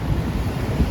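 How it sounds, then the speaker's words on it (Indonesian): High surf on the southern coast of Java, at Gopit Beach in south Malang, roars as a steady, loud wash of noise, with wind buffeting the microphone close up and no voices. "Dan ombak di laut selatan ini memang cukup tinggi, tetapi sangat bersih lautnya"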